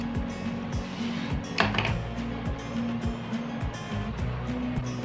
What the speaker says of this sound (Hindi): अब हमने जो दरमियान में कपड़ा है वो हम कटिंग कर लेंगे।